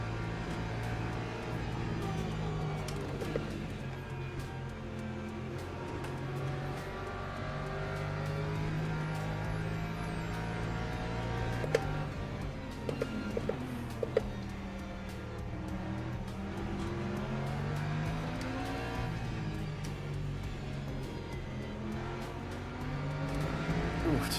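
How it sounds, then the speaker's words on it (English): Hypercar field in the Le Mans Ultimate racing sim at Monza, engines droning and whining steadily past, with rising and falling pitch sweeps from passing cars throughout, mixed with background race noise. "Here comes the main hypercar field though, along with back markers again apparently."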